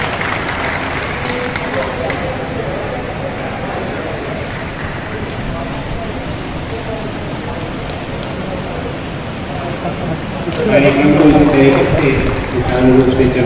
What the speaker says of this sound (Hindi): तालियां बजाकर आप लोग अभिनंदन करें।